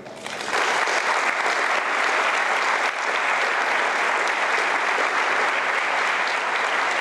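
Sustained applause from a large audience at a graduation ceremony, a dense wash of clapping that swells quickly and holds steady throughout.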